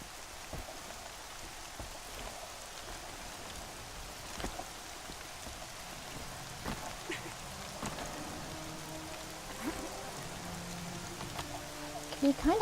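Steady in-game rain hisses across a Horizon Zero Dawn landscape, a continuous even wash with occasional louder drop spatters and faint clicks near the end.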